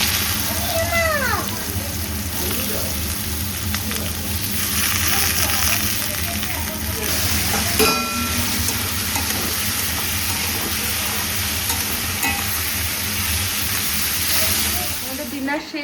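Hot oil hisses and sizzles steadily in a pan on a home kitchen stove, a dense continuous frying noise throughout with faint clinks and background voices underneath.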